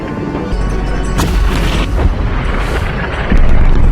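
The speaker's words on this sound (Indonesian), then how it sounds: "tiba-tiba tank itu mengincar menara dan akan menembaknya" A tank cannon blast booms loudly with a deep rumbling roar that sustains and swells again near the end, no voices present.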